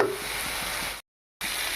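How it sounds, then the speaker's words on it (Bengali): Chopped tomato and salt fry in a pan as a spice base is stirred, producing a steady close sizzle with light scraping, broken by a brief total silence before the frying resumes. "এবারে এটা নেড়ে চেড়ে একটা ভালোভাবে মশলা তৈরি করে নেব।"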